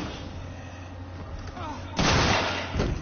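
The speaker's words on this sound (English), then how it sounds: "Gunshots alert people." A sharp gunshot blast cracks loudly in the video game Alien: Isolation after a stretch of quieter, hissy game ambience, and a second shot follows less than a second later.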